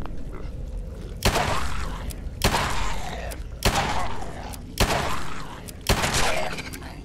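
Machine guns fire at ghouls in Fallout 4 as a run of five heavy, booming bursts, each sharp attack fading into a rumbling tail, spaced about a second apart over low background rumble.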